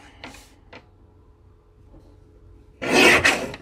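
Paper trimmer slicing scrapbook paper for a page kit, a few faint soft scrapes and ticks early on, then a loud close rasping cut near the end.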